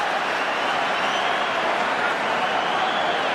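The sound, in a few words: rugby stadium crowd cheering, Wales vs New Zealand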